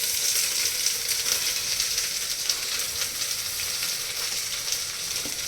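Around 400 grams of carrot, beans, potato, peas and tomato fry in a pan, producing a continuous close hissing sizzle with faint stirring movements and no talking.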